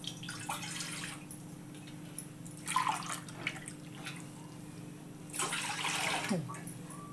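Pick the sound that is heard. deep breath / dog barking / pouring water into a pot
pouring water into a pot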